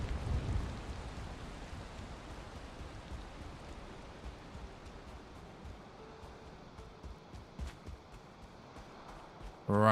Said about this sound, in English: Pretty annoying it's raining though.